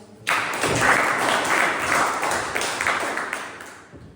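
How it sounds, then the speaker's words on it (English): Applause at a Toastmasters club meeting, a crowd of hands bursting in suddenly, holding steady and loud, then thinning and fading toward the end. "We get a lot of applause again."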